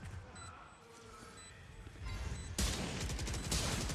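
Rapid gunfire in Valorant spammed through a smoke, a dense loud burst of shots arriving after quieter game ambience and softer distant shots, with a voice talking underneath.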